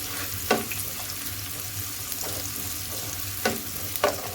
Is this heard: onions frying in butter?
yes